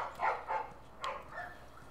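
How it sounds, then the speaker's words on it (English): A dog barking in The Last of Us video game, four short barks in quick succession, moderately close over quiet background ambience. "It's a doggo!"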